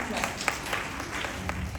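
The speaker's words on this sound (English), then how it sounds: "let's give a round of applause for them" Audience applause at a World Earth Day event at a college of education in Chandigarh, a dense, steady patter of clapping from a crowd with a few sharper claps standing out, at moderate level.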